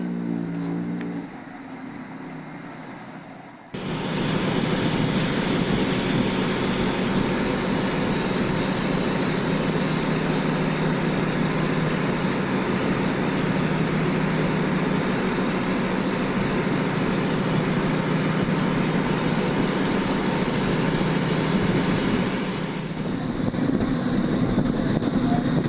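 Steady loud engine and road roar from inside a moving Philtranco passenger bus on the Davao to PITX Manila route, a continuous rumble with wind noise and a brief quieter stretch near the start.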